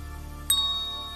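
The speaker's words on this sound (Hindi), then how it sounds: "डोरबेल बजती रही" A single bright electronic doorbell ding, used as a story sound effect, rings close and clear, its tone lingering and fading over a low background hum.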